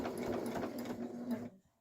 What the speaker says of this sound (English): And we're just going to stitch this zipper down.